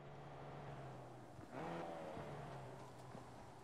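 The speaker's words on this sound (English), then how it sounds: "Oh, here's that car again." In Fortnite, a car engine drones at a low, steady pitch and then briefly swells as the car revs and moves past. The sound is quiet and somewhat distant.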